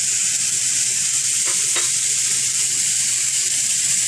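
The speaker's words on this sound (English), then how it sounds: "And then I'm going to place my meat right on top of the pan." Rib eye steak searing in a hot pan with garlic gives a loud, constant close-up sizzle, a dense hiss that holds steady for the whole stretch, broken once by a brief clink.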